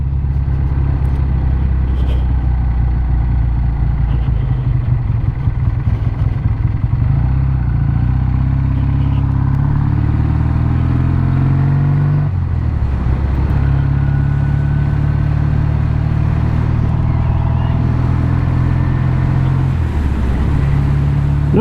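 A Triumph Bonneville T120 Classic motorcycle engine runs loud and steady throughout, a deep continuous rumble with small rises and dips in revs, heard close up with no talking.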